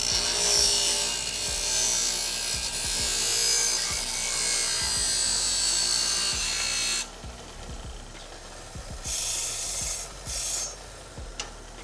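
A hand saw cuts through a golf wedge shaft at a marked line, making a close, rhythmic rasping stroke that runs steadily and then breaks into a few short final strokes.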